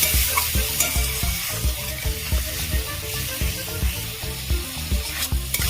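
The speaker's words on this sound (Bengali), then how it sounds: "গ্রেভি ফুটছে" Spiced gravy for a bhangon fish and eggplant curry bubbles and sizzles in a pan while a spoon scrapes and stirs in a steady rhythm, loud and close throughout with no talking.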